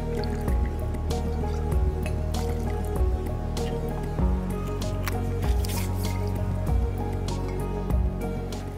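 Manzana Verde apple liqueur is poured into a cocktail at a hotel bar, a steady close liquid fill with dripping and splashing textures throughout and no talk.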